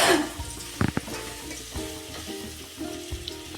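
Pieces of bijora citron cook in a pot with a soft, steady sizzle, and a few louder scrapes and knocks come from stirring.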